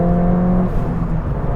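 Ford Fiesta ST engine fitted with an induction kit and stock exhaust, giving a loud, steady mechanical rumble that swells and settles as it revs on a downshift, close by with no talk.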